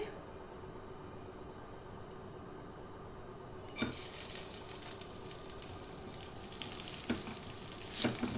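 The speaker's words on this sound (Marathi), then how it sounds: "आता कुकरमध्ये तेल घालून ही मटकी थोडी आपण परतून घेऊया" Low hiss at first, then a sudden louder, steady sizzle of sprouted moth beans frying in two teaspoons of oil in a pressure cooker, with a few scraping stirs partway through.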